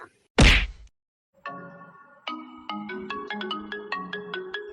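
A loud, sharp thwack comes first, then after a short silence a cartoon phone ringtone plays a bright, repeating electronic melody of evenly spaced notes in an Assamese animated scene.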